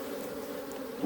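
Honey bees at a hive in an apiary give a steady, close buzzing drone throughout, with no voices.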